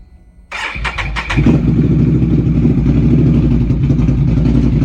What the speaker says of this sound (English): Put it in high and crank her up.